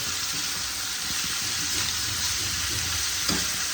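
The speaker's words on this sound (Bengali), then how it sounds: "ভালো করে নেড়ে মিশিয়ে নেব" A spoon stirs banana blossom curry (mochar ghonto) in a frying pan, giving a continuous close hiss and sizzle with a faint scrape near the end and no talking.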